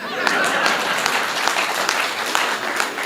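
An audience at a Hindi comedy poetry gathering (hasya kavi sammelan) gives steady, full applause, a thick wash of many hands clapping at an even level throughout.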